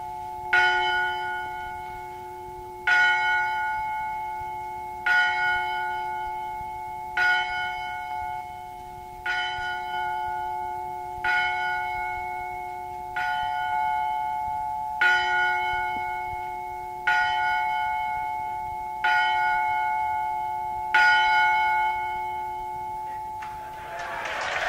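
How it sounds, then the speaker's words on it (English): The Rhodesian independence bell tolls at midnight, its deep, resonant strikes evenly spaced about two seconds apart, each one ringing on and fading under the next, with faint crowd murmur in the background. "the Prime Minister moves to the independence bell to toll it 12 times to mark the beginning of a new year for Rhodesia"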